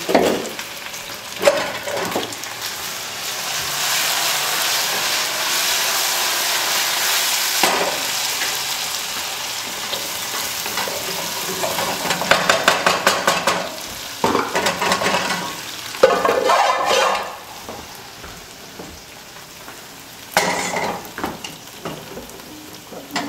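Meatballs cook in a pan for Persian sour cherry rice with a continuous close sizzle and frying crackle, and louder bursts of spatter and stirring come at intervals.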